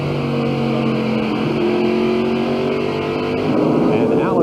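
A race car engine screams at high RPM during the 1992 First Union 400, now running on fresh tires and reaching about 8,300 revs. Its steady, rising whine carries on continuously under a commentator's voice, with another car passing close near the end.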